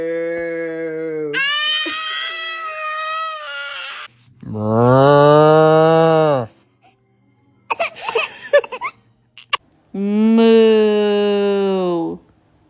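A voice repeatedly imitates a cow's moo to infants, several long drawn-out moos separated by pauses, with a brief burst of baby laughter or squeals in between.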